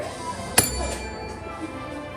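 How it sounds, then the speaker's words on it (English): A classroom bell rings once with a sharp, bright strike that fades quickly against quiet room noise, with no voices. "I rang that bell, that timer went off."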